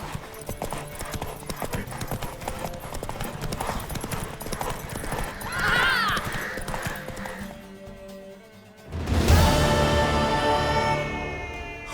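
Hooves clatter in a fast, steady galloping rhythm as a horse races in the video game The Witcher 3: Wild Hunt, close and loud, with scattered game-like sounds and a surge of noise near the end.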